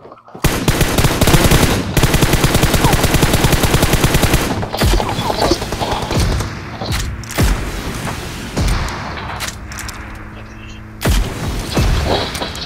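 Loud, dense gunfire from PUBG Mobile, opening with sustained rapid automatic bursts and then giving way to scattered single shots and short volleys, with some mechanical clatter.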